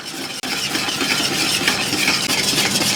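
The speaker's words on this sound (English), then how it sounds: "take it off of that burner and mix some more" Apple pie filling being stirred in a pot taken off the burner, a steady close scraping and sloshing that runs continuously, with no voices.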